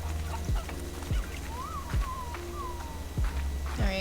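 Chickens in the video game Slime Rancher cluck in short, repeated bursts over soft in-game background music, with several sharp thumping footstep-like hits spaced through the scene.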